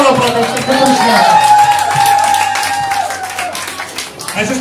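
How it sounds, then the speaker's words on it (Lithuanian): Applause from an audience at a Christmas competition event, steady clapping mixed with crowd noise and voices, fairly loud throughout. "O reikia aplodismentais"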